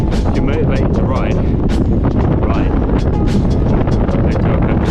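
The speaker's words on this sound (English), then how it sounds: "It's windy." Strong wind buffets the microphone while riding a motorcycle, a constant roaring rumble with gusty bursts, loud and close throughout.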